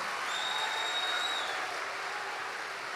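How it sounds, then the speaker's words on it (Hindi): A large devotional gathering at Bageshwar Dham for Hanuman Janmotsav breaks into steady applause, a broad, fairly distant patter of many hands sustained evenly, with faint tonal sounds drifting over it. "जोरदार ताली बजा के त्रिपाठी जी को धन्यवाद दो"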